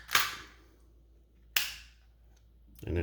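Two sharp cracking snaps about a second and a half apart as the shell is wrenched off a blue crab, close and loud, followed by a softer rustle at the end.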